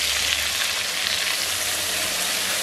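Ground masala frying in rendered chicken fat in a pan for a village-style country chicken curry, a steady close, loud sizzle with no breaks, no one speaking.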